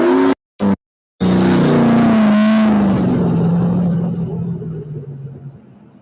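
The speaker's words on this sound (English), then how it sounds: "Quite a distinctive whine from that car." A race car passes close with a loud rumbling engine and a distinctive rising then falling whine, the pitch sliding downward as it goes by and fades into the distance after a few brief cutouts at the start.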